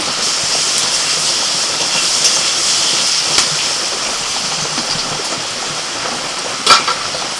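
Potatoes fry in hot oil with a steady bright hiss, a few sharp crackles and spits breaking through, and no voices.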